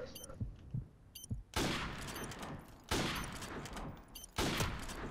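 Gunfire in Call of Duty 4 Modern Warfare Remastered during a quick-scope sniper attempt in a 3v3 match, with three loud, sharp shots with long decaying tails spaced about a second and a half apart after some quieter game noise.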